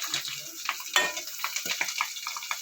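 Potatoes frying in a covered pan give a steady, close sizzle with dense crackling pops and spits throughout, with no voices.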